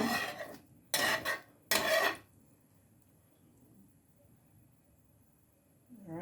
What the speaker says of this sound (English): as the egg is cooking, you can gather it together